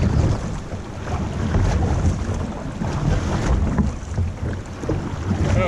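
Canoe paddling on an Algonquin lake during a fishing trip, heard as continuous broadband water and wind rush with soft, irregular splashes, steady and fairly loud throughout with no talking.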